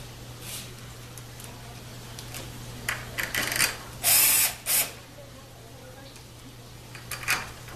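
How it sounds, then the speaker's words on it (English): A ratchet with an eight millimeter socket turning bolts on a transmission valve body cover, giving short clicking bursts and a louder metallic rattle midway, over a steady low hum. "Eight millimeter socket."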